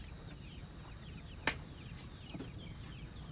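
Chickens cluck softly and intermittently in a yard with many chicken coops, faint and somewhat distant, with a sharp short sound midway and no talking.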